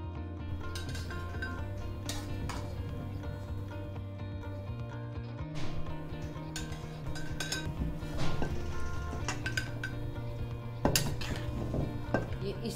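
Homemade carrot, cauliflower and turnip pickle spooned and pressed into a glass bottle, with steady clinks and scrapes of a spoon against glass over a low background hum, some louder knocks near the end.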